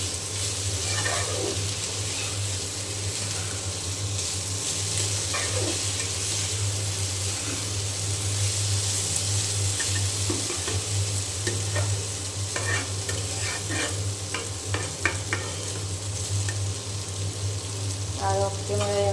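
Potato bhaji frying in a pan, a steady sizzle with repeated scraping stirs of a spatula, clearer clinks and scrapes near the end, faint voice in the background.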